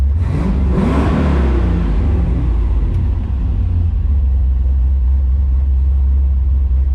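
A turbocharged LS V8 engine revs up loudly past 3,500 RPM, its roar climbing and then settling into a steady deep rumble that continues close by.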